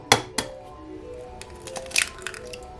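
An egg is cracked into a Christmas mug used as a mixing bowl for cheesecake pancakes: two sharp shell taps against the ceramic, then softer cracking, a clink and wet squishing as it drops in, close and quiet.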